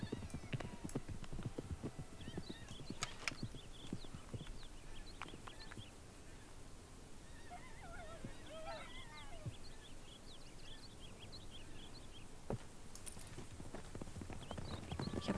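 Horses clip-clopping in Red Dead Redemption 2, a steady rhythmic hoof beat in a quiet outdoor game setting with faint birdsong and occasional distant calls, fairly soft throughout.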